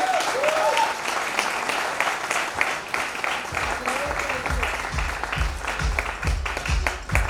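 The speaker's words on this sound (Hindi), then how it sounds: "जोरदार तालियां" A crowd bursts into enthusiastic applause, dense clapping that carries on steadily, with a few voices faintly underneath.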